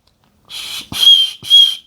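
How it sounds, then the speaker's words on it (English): A small whistle built into a Spyderco rescue knife is blown in three short, shrill bursts close by, the last two louder, with a faint thump between them. "So the whistle does work there."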